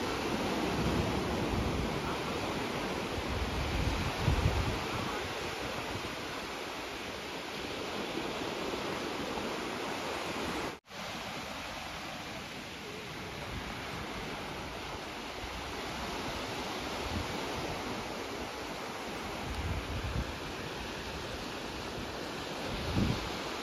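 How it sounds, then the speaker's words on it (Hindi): Sea waves and wind surround a kayak at Palolem, a constant broad rush of surf and gusting air over the microphone, with a brief dropout near the middle. "तो आ गए अभी समंदर में"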